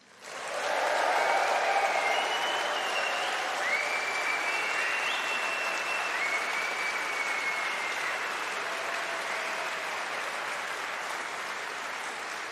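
Sustained applause from a large audience at a University of Birmingham graduation ceremony, loud and steady throughout with dense clapping that fades slightly toward the end; no talking.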